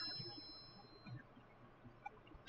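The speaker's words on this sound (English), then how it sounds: "sorry if y'all can hear my phone in the background." A phone notification ding sounds faintly in the background of a Sims 3 game session, a brief chime standing out against quiet low game ambience.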